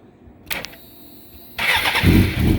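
A 2005 Suzuki GSXR 600 with a Two Brothers exhaust cranks with a whining starter, then catches and fires into a loud, close, rumbling idle.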